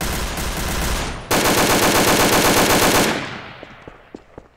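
Gunfire in the video game Garry's Mod DarkRP: loud continuous noise gives way to a dense, close burst of rapid automatic fire lasting about two seconds, then a few scattered single shots fading out.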